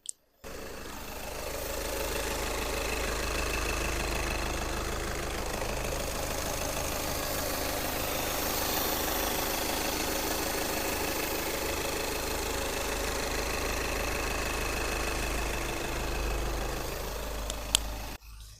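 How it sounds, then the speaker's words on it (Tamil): Engine of a 2013 Volkswagen Jetta idling, recorded close up: a steady, even mid-pitched hum with a faint ticking texture, running continuously and alone for most of the stretch before cutting off at the end. "வண்டியோட இன்ஜின் நாய்ஸ் நான் உங்களுக்கு மைக்க பக்கத்துல வச்சு எப்படி இருக்குன்றத காட்டுறேன்"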